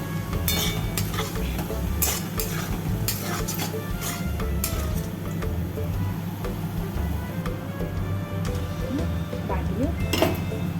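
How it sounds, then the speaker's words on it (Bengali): Fried potatoes sprinkled with poppy seeds are stirred in a pan, giving repeated scraping clinks over a steady low background hum, with faint voices in the background. "আলুটা ভাজা হয়ে গেছে, একটু পোস্ত ছড়িয়ে দিলাম।"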